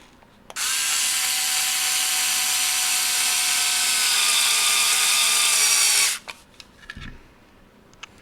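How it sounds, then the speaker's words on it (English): A power drill drives screws into robot claw parts: one loud, steady whirring burst of about five and a half seconds, then brief clicks and handling noises, with no talk. "Next, we're going to go ahead and drill these in"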